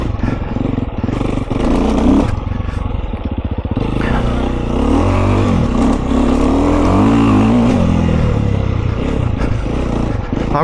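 A Stark Varg electric motocross bike is ridden hard, with a continuous loud whirring drive and rattling chassis clatter, accompanied by wind rush and shifting pitch as it accelerates and brakes.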